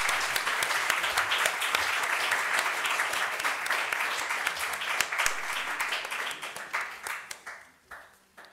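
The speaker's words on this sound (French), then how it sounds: "On peut applaudir nos quatre invités" Warm applause from an academic audience for four guest speakers, dense continuous clapping that gradually thins out into a few scattered final claps near the end.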